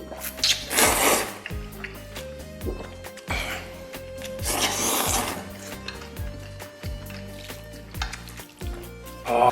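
Someone noisily slurps spicy beef noodles with tender braised beef brisket in a few close, wet sucking bursts, over faint background music.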